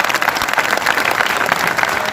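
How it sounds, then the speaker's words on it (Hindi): Loud, dense applause from the audience at a Hindi poetry gathering (kavi sammelan), continuous clapping filling the whole moment with no talk over it. "एक बार जोरदार ताली बजा दें आप लोग।"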